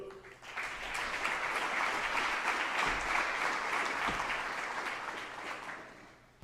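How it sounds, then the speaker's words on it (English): Audience applause at a university athletics Hall of Fame ceremony, a sustained wash of clapping that swells early, holds steady and fades toward the end. "Applause too, even though he's on video."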